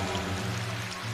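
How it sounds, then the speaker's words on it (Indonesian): A river stream babbles and pours continuously, a dense, close, steady rush of water with a low hum beneath, and no voices. "Kali-kali gemericik bersukaria."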